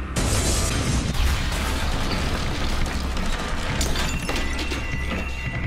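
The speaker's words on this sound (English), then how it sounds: "We hear another explosion." A loud, rolling boom of an explosion at the World Trade Center on September 11, 2001 erupts and lingers as a chaotic roar, with crashing and clattering debris following.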